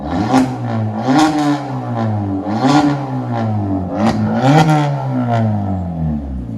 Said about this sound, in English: That's what it sounds with 5-inch tip on it.